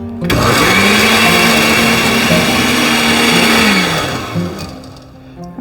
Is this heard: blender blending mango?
yes